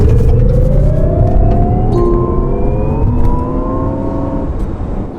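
A 2021 Jaguar I-Pace electric car accelerates hard from 0 to 100 with traction control partly off, a loud rising electric whine climbing steadily in pitch over road rumble, heard from inside the cabin.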